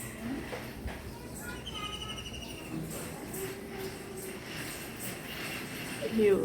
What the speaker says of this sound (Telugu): పిచ్చి పక్షులు కూడా సౌండ్ చేస్తున్నాయి.